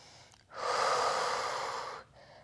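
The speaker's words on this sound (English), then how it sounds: "Taking nice deep inhales in through the nose and slow controlled exhales." A single deep inhale drawn through the nose during a rest-day stretching routine, a smooth, loud, close rush of air lasting about a second and a half, with faint breath before and after.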